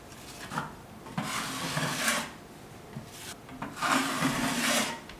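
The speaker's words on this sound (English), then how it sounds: "I'm holding it pretty flat to the wall and I'm pushing against the wall" A putty knife held flat spreads drywall mud across a patched wall, making rhythmic rasping scrapes in several long strokes with short pauses between them, close and fairly loud.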